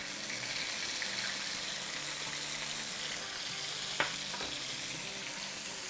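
Garlic paste and ground onion fry in about four tablespoons of hot oil, a steady close sizzle with a faint stirring clatter and one brief knock near the end, no talking.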